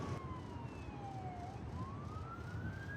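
A faint, distant police siren wails through the city at night, its tone sliding down and then rising again over a low background hum of traffic.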